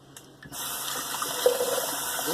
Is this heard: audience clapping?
no